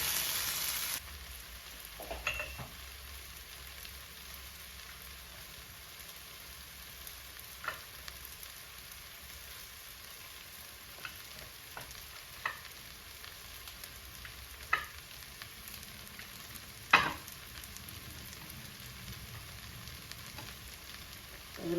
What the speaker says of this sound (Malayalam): ഉള്ളിയും വെളുത്തുള്ളിയും നന്നായിട്ട് വഴഞ്ഞിട്ടുണ്ട്